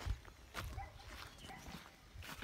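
A dog in a yard in San Miguel being chased by a goat, with a few short barks and yelps and scrambling footsteps at moderate distance over faint background noise.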